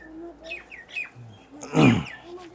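Tippler pigeons in an Indian loft give soft coos and short chirping calls close by, with one louder, fuller burst in the middle and no talk over them.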